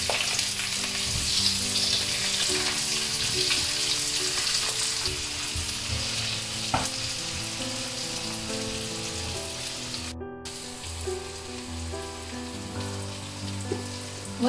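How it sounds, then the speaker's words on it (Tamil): Onions and green chillies fry with popped mustard seeds for a Jaffna-style chicken curry, producing a loud, continuous sizzle with stirring scrapes and faint low background tones, no talking. "வெங்காயம் பொரிஞ்சு கொண்டிருக்கீங்க"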